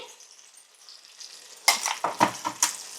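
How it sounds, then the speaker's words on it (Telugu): Tamarind fries gently in oil on a low flame for gooseberry pickle. A faint, soft sizzle turns into a few louder scraping stirs against the pan in the last second and a half. "మెల్లిగా ఫ్రై అవుతుంటుంది సిమ్లో పెట్టి ఫ్రై చేసుకోవాలండి"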